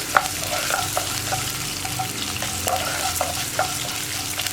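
Chopped ginger and green chillies sizzle in hot oil for kesari rava upma, a continuous close frying hiss punctuated by regular clicking taps of a stirring spoon against the pan.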